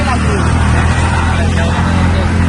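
A small auto rickshaw drives along a road, its close, loud engine and wheel rumble continuing steadily throughout under heavy wind and road noise.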